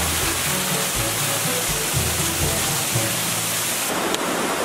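A waterfall at a hot spring roars in a dense, continuous rush of falling water, close and loud, with a deep low rumble pulsing underneath and no voices.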